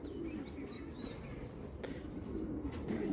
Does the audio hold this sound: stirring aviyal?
no